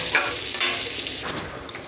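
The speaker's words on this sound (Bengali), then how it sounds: "এবার এটাকে ভালো করে কষিয়ে নেব" Tomato and salt being stirred and sautéed in a pan for a vegetarian green jackfruit curry, giving a steady close sizzle with scraping spoon strokes and no talking.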